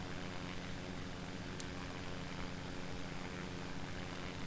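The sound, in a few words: propeller aircraft in flight, Pipistrel Panthera in X-Plane 11 video game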